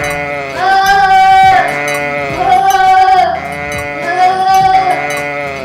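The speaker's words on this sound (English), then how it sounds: "And what says the sheep?" A sheep bleats in repeated long, wavering cries, loud and close, with short pauses between calls and no talking.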